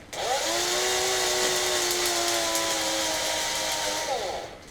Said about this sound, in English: All you need is one drill, a pencil and a sharpener.